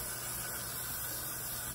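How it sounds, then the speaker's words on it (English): A short, steady hiss of product spraying onto wig lace, faint and continuous, with no talking. "So I'm gonna spray it like that."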